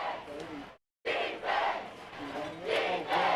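The home crowd at a Jasper Vikings high school football game against Sipsey Valley roars and chants in the stands, a loud wash of voices that cuts out briefly and then swells again.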